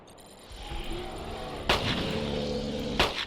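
Revolver shots ring out in Carnivores Dinosaur Hunter Reborn as a hunter fires at a dinosaur: two loud, sharp reports about a second apart over a steady ambient game hum.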